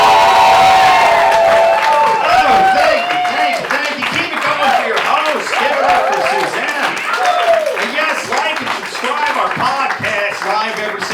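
A comedy club crowd claps and cheers loudly to welcome a stand-up comedian to the stage, a dense sustained roar of hands and whoops with a voice calling over it, close and strong throughout.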